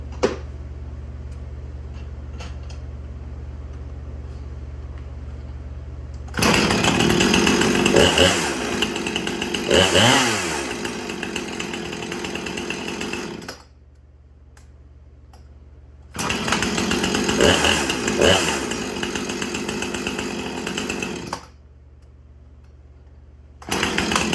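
A Husqvarna chainsaw used for cutting firewood idles with a low putter, then revs loudly in two long bursts of roughly five seconds each, dropping back to idle between them.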